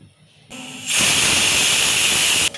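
Pressure cooker whistle going off while cooking bitter gourd tamarind stew (kakarakaya pulusu), a loud sustained hiss of escaping steam that bursts in after a quieter start and holds steady to the end.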